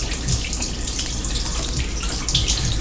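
Water from an overflowing kitchen sink runs and splashes steadily, like a small waterfall, close by and loud, with no talking.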